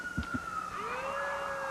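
A fire engine siren rises and wails at a distance during a 1994 high school football game in Nutley, faint and steady under crowd ambience after a couple of brief thumps.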